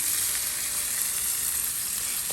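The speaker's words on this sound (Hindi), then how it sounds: "शैलो ही फ्राई किया है इसको।" A beef burger patty shallow frying in a little oil, giving a steady, dense sizzle that carries on evenly throughout with no voices.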